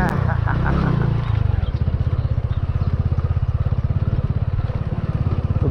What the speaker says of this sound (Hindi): तो अब हम बाइक लेके जाएंगे पानी में से।